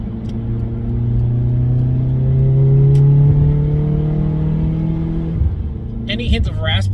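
A car fitted with a Vibrant Ultra Quiet resonator exhaust accelerates up close, its engine droning with steadily rising tones before easing off, followed by a few brief clattering sounds at the end.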